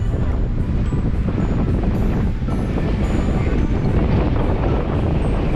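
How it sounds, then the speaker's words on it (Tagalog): Strong wind roars constantly against the microphone at a scenic high viewpoint in Abra, Philippines, a loud unbroken rumble that buries everything else. "lakas ng hangin"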